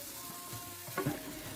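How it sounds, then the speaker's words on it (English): Softened tomatoes being mashed with a spoon in a pan for a paneer scramble, a steady low sizzle with a brief burst of spoon scraping and squishing near the end; no voices. "I'm going to mash it with the help of the spoon"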